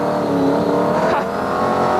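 A 650 horsepower Brisca F1 stock car spins its wheels on a race track, its engine roaring loud and close with a sustained, slightly rising tone and a brief squeal in the middle.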